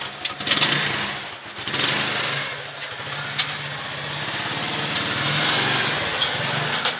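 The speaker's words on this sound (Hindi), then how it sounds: "सुबह सवेरे पोलियो वर्कर राबिया बसरी मोटरसाइकिल चलाकर पोलियो के इंसदाद के लिए निकली हैं।" A motorcycle engine buzzes steadily as a rider sets off early in the morning in Multan, a light, high-pitched drone with a few brief surges, heard fairly near amid outdoor noise.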